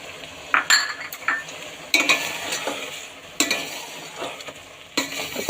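Carrot halwa being stirred and roasted with a spoon in a pan, with repeated scraping clinks and short stirring strokes over a soft continuous sizzle, close and moderately loud, no talking.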